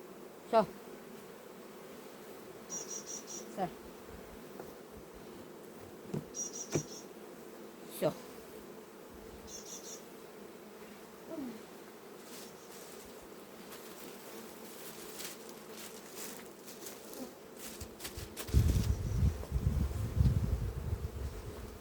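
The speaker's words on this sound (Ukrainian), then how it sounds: "Все, витравили нас бджоли." Honey bees buzz around hives at an apiary, a faint continuous drone with occasional closer passes, and a louder rustling burst near the end.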